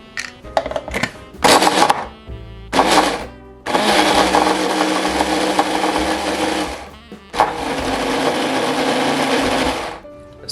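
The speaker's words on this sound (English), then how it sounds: "I'm just going to put it in the food processor. And now I'm going to add the egg, and that's it. I am going to mix this all together." A food processor mixing waffle batter with an egg runs in several loud whirring bursts, first short pulses, then longer sustained runs with clunks and brief pauses between them.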